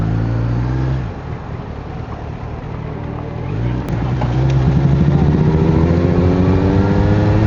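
A Kawasaki Z900 motorcycle engine cruising on a highway, a loud continuous drone that eases off briefly and then builds again in pitch, heard up close with steady wind rush and no talking.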